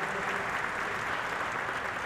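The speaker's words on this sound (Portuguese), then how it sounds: "um forte aplauso aí" An audience in a legislative chamber during a solemn session applauds, a steady, fairly soft patter of many hands clapping together without a break.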